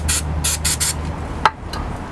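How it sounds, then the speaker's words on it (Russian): Brake cleaner sprayed onto a BMW X5 brake caliper during a piston replacement: several short hissing aerosol bursts in a row, then a sharp metallic tap, over a steady low workshop hum, with no talking. "Промоем смывкой."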